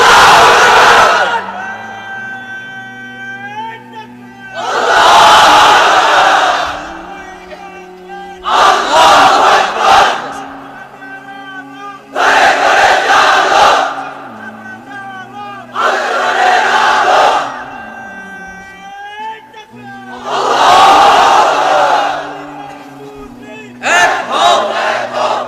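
A large crowd of unmarried men at an Islamic sermon gathering shouting a takbir chant in loud repeated call-and-response bursts, with a single voice leading between the mass roars.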